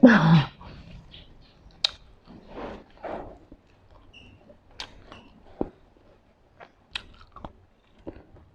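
Sticky rice eaten with sweet tamarind, heard as close, wet chewing and crunching in irregular bites with short pauses between them, starting with a louder burst and then continuing quietly, with no talking.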